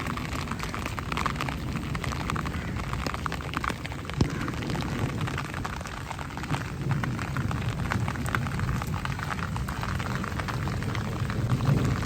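Steady rain falls over a village home on a rainy day, a dense continuous hiss of drops on surfaces with a faint low rumble beneath, no voices.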